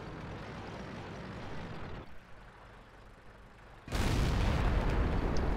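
A tank cannon fires in a tank video game, a sudden loud broadband blast that jumps up and holds steady after a stretch of rumbling engine and ambient battle noise, with no talk.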